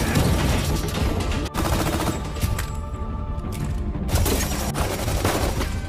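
Gunfire fills a movie shootout during a raid on a hideout, with dense, loud volleys of rapid shots and bursts that continue almost without a break, punctuated by a few heavier booms.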